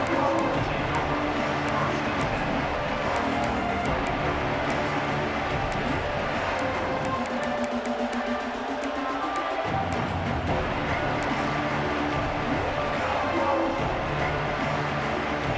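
A stadium crowd roars in the college football video game EA Sports College Football 26, a loud and steady wall of cheering that swells briefly mid-clip, with an announcer talking over it.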